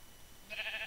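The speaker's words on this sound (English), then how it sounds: "Sheep!" A sheep in a modded Minecraft game gives a short synthetic bleat in the second half, a bright wavering cry that stands alone.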